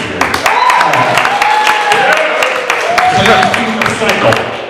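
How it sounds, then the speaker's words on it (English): A live poetry show audience in the Bronx breaks into a round of applause and cheering, loud and close, with voices mixed into the clapping. "Give me a round of applause."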